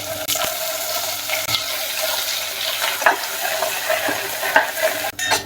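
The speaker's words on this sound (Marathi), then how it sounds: "आता हे वाटण तेलामध्ये थोडा वेळ परतून घेऊ" Ground masala paste frying in hot oil with hing, turmeric and goda masala for a traditional Bhogi vegetable dish, a close sizzle under repeated spoon scrapes and stirring clatters against the pan.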